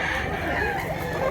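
A two-year-old rooster crows loudly and steadily for a moment, close by, with no other sound over it.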